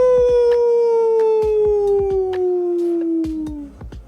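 A person imitates a wolf howl with one long, loud, steady tone that slowly falls in pitch over several seconds, with sharp clicks and knocks around it.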